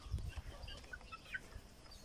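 Soft clucking from a Kelso gamecock, a few short calls scattered over quiet background noise, fairly faint.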